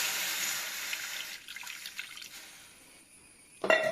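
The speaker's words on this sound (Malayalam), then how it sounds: "ഇതുപോലൊരു ചട്ടിയിലേക്ക് നമ്മൾ കുറച്ച് വെള്ളം ഒഴിക്കാം" Water, about a glassful, pours into a clay cooking pot as a bright splashing hiss that fades after a second or so, with a brief clink of a vessel at the end.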